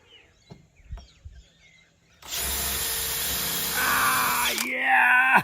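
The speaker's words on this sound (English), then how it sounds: "I've got a drill." A toy drill whirs into a loud, steady buzzing motor run after a few quiet knocks, holding for a couple of seconds, then its pitch shifts with a rising squeal before it stops.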